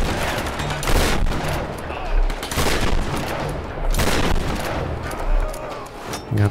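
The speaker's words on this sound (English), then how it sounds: "I got my shotgun ready." Shotgun blasts in the Tomb Raider video game, several loud booming shots spaced about a second apart amid ongoing combat noise, with a voice speaking over them.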